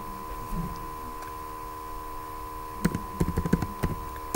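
Several quick, light keystrokes on a computer keyboard come in a short burst near the end, after a quiet stretch with a steady background hum.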